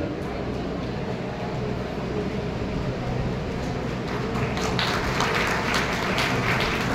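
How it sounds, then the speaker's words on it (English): An audience at a school honour ceremony applauds, a dense and steady wash of clapping that holds loud and close throughout and thickens slightly toward the end. "your clapping should not stop"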